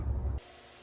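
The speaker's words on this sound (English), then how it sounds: "So let me get spraying the second and last coat." A spray gun hisses in a steady, broadband rush while applying the second coat of paint to a dry-rotted dresser; the short burst follows a brief low rumble.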